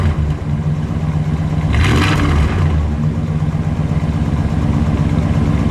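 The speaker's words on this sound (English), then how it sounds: "Larry, give it a rev, please." A 1967 Chrysler Town & Country station wagon's engine revs up once in a short, loud burst of exhaust rumble, then settles back to a steady idle.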